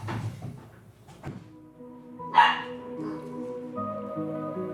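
A dog in a living room gives a few short barks and yips between household clatter, followed by a bright sharp yelp and lingering tonal sounds, all fairly quiet and close.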